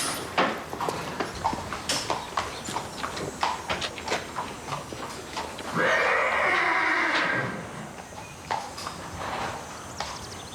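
A horse gives a loud, drawn-out whinny midway, surrounded by rapid clip-clop hoofbeats and scuffling steps on a hard surface.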